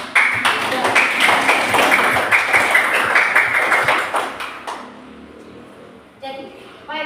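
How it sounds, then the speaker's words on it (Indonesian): Children clapping together in a group, a rhythmic burst of close applause lasting several seconds before fading out into quiet with a brief tone at the end. "mari kita beri tepuk tangan untuk teman-teman yang tadi sudah"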